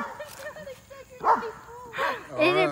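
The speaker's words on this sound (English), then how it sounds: "Overlook my dog, she's barking, she's going crazy." A dog barks and yips excitedly in quick bursts, close by, with a person talking over it.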